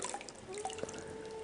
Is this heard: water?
yes